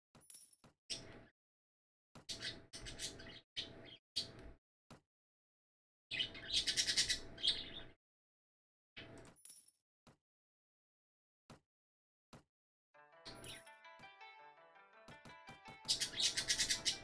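Birds chirp in the video game Mount and Blade, arriving in short, scattered bursts with silent gaps between them. A cluster of thin, tonal tweets rises near the end, close and moderately loud.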